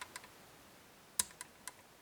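A faint metallic click from a Mottura 6-pin lever lock being picked under tension, one sharper click followed by a few softer ticks in a quiet room.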